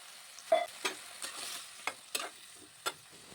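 A utensil stirs vegetables in a cooking pan, making a quiet series of about eight separate scrapes and knocks against a low background hiss.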